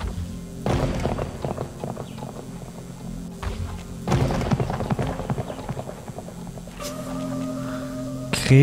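Horse hooves clip-clop in the Weird West video game on PC, a run of steady hoofbeats near and moderately loud over a background game soundscape, with several louder bursts and a tonal cue near the end.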